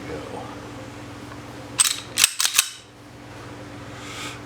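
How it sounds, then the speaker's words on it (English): Heel magazine release on an Astra A80 .45 ACP pistol being pulled, producing a quick cluster of four sharp metallic clicks and snaps close up, over a low background hum. "Has a European style magazine release down here, otherwise known as a heel release. See there? Pull that down."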